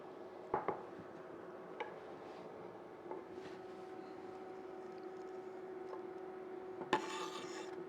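Garlic cloves being cut up with a knife on a board, a quiet series of scattered knife taps and scrapes over a steady low hum in a home kitchen.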